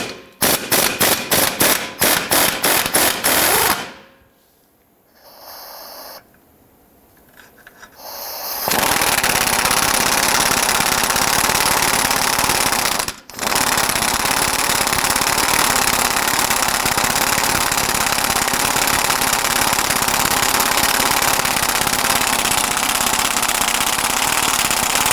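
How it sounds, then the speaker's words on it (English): Air impact wrench loosening the 21mm lower control arm nut and bolt on a 1999-2004 Jeep Grand Cherokee's rear suspension: rapid loud hammering bursts at first, then a long, steady, loud buzzing run with one brief pause. "we're going to use a 21mm socket on our impact. Let's go ahead and loosen and remove this hardware."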